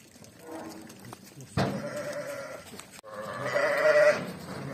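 Sheep and ewes being herded on a farm bleat nearby, with several loud, drawn-out calls rising over a low shuffle, the strongest cries coming toward the end.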